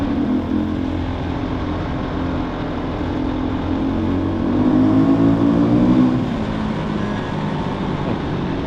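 Husqvarna motorcycle engine revving on an off-road outing, a loud, steady rumbling drone with rising and falling pitch and a brief surge of throttle midway; no distinct pops or bangs stand out.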